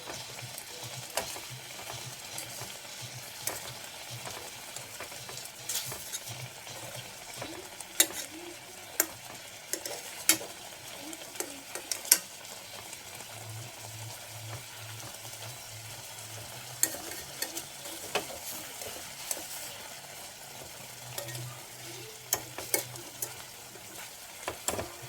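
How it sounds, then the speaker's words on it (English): Fish cutlets fry in a hot pan, giving a steady low sizzle and bubbling that runs throughout, broken by scattered faint ticks and clinks of cookware, with no talking. "It's been a minute since this has been boiling"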